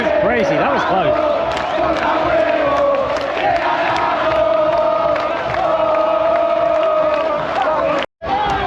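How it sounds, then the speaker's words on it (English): A large soccer crowd in Argentina roars continuously, with chanting and whooping layered into a dense, loud wall of voices that drops out abruptly for a split second near the end. "And the crowd goes crazy"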